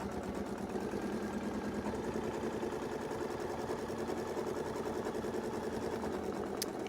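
A sewing machine double stitching a quilt border, a steady faint mechanical whir running continuously without pause or change, quiet and alone.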